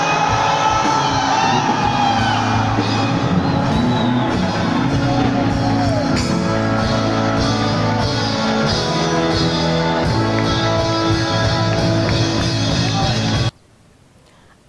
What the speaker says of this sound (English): there was a loud cheer and victorious celebration as soon as 8 o'clock 12 a.m. January 1st